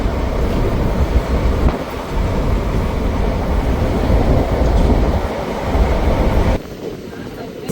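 A passenger train, number 54551 on the Ambala Cantt to Bathinda line, runs at about 105 km/h with a loud, steady rumble and rattle heard from on board. The noise drops slightly near the end.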